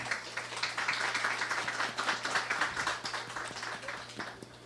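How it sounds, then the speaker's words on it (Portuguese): An audience applauds at a Brazilian election candidate interview event, steady dense clapping that carries on throughout with no voices. "Uma salva de palmas, por favor."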